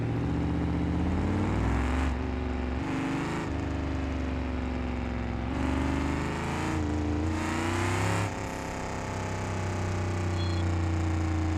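Car engine in the video game BeamNG.Drive revving hard in repeated surges, with steady loud engine drone and several sharp throttle bursts, no talking.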